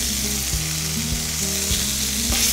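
Finely chopped pepper, onion and fresh garlic fry and hiss loudly in a pan, a strong continuous sizzle with soft scraping as the mixture is stirred; no voices.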